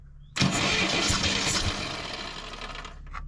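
An old Moskvich IZh-412 car engine, after ten years standing, cranks and catches with a loud roar, then settles into a rough, uneven idle, close by.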